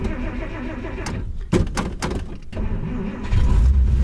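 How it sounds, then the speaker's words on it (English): A 1953 Kaiser two-door club sedan engine with an intake leak runs roughly on heavy choke, loud and close, with uneven sputters and bursts before settling into a stronger, steady idle. "I think it's got a pretty good intake leak, which means it needs a lot of choke in order to make it run smoothly"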